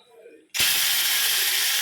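After a quiet moment, washed prawns hit hot oil in a pan with a sudden loud hiss that holds steady as they begin to sauté.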